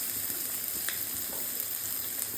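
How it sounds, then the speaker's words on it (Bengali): Onions and green chillies frying in hot oil, a steady, faint, even sizzle that runs alone with no voices and only small crackles across it. "তেলটা গরম হওয়ার পরে পেঁয়াজ লঙ্কা দিয়ে দিল।"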